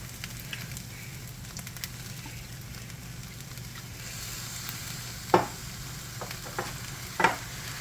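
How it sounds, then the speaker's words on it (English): Pork fried rice with eggs and soy sauce sizzles steadily in a pan while being stirred, with a continuous frying hiss broken by two distinct louder scrapes of the utensil against the pan. "We're going to go ahead and stir all this up."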